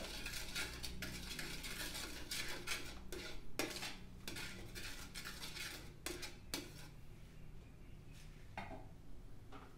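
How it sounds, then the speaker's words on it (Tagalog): Utensil scraping and clinking against a metal pot in repeated bursts while stirring bistek tambakol (Filipino-style tuna steak), with a faint sizzle underneath and no one talking. "haluin natin to"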